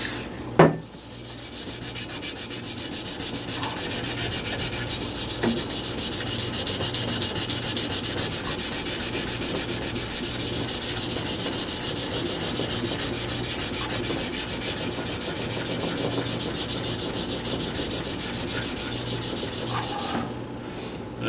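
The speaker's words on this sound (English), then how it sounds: "That's when we'll switch over to the Scotch-Brite pads." A Scotch-Brite pad scrubs stained metal armor or a blade in a continuous, loud, even abrasive rubbing that runs for about twenty seconds, with a couple of light knocks at the start.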